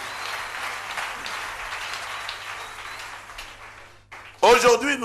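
A church congregation applauds the Lord Jesus during a sermon, sustained clapping that fades out before a voice abruptly starts speaking loudly.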